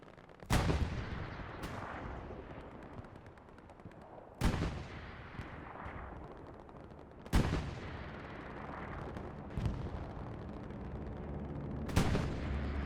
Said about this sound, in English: Another rocket ricocheting off of the Crusader tank.